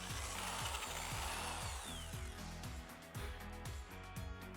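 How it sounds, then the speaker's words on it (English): A power drill bores holes in wood for threaded rod, its motor droning with a rhythmic pulsing that repeats several times, close and steady, with a higher whine sweeping across it. "Then I drilled the holes for the threaded rod to pass through"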